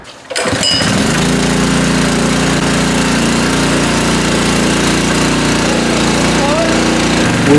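A small pull-start fire pump engine starts after a pull and then runs steadily at a loud, constant roar, close by.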